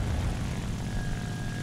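Propeller fighter planes droning steadily through a video game dogfight between a Bf 109 and a Yak-9, a continuous engine hum with a faint high whine, no talk.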